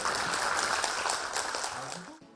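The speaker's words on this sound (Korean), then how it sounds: "여러분 박수 부탁드립니다." A seated audience at a Seoul forum on overcoming low birth rates claps together in sustained, even applause that fades out after about two seconds.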